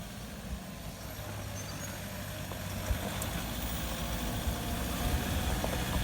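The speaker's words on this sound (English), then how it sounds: "Bit of wheel spin already, got the traction control kicking in." A 4WD vehicle climbs a slippery, rain-soaked track, its engine giving a low, steady rumble at moderate distance that rises slightly as the wheels spin, under a faint wash of outdoor noise.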